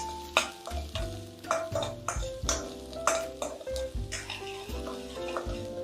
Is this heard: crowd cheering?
no